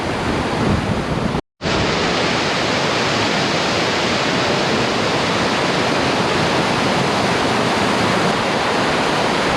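Dartmoor spate river in full flood during Storm Francis, a loud, close, continuous roar of rushing water with a brief break near the start, no voices.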